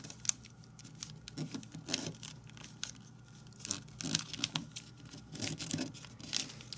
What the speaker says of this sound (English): Rotate and let's fold the two flaps up.